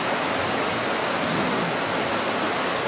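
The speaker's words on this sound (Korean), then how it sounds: "늘 계곡이라서 물소리가 엄청 들리고" Rushing water from a mountain valley stream in Hadong, Korea, roars continuously at night, a dense, loud, even wash of sound with nothing else standing out.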